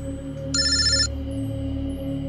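A mobile phone rings once in a short electronic burst, fairly clear over a low background hum, with no one speaking.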